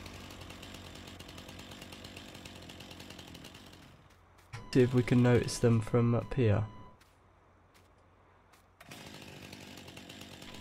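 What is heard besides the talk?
chainsaw running in Farming Simulator video game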